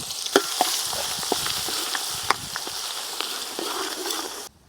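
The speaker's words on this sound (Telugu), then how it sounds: "ఇదిగో ఇప్పుడు అల్లం చిన్నులపాయ అయితే ఇది ఈ విధంగా వేగాలి" Coarsely pounded ginger and garlic paste sizzles and crackles in a pan, with sharp popping bursts and stirring scrapes over a steady frying hiss that cuts off abruptly at the end.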